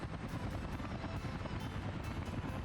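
Rotor chop of a helicopter in the game Workers & Resources: Soviet Republic, a thick, constant whirring and thudding drone at steady volume for a few seconds, with nobody speaking.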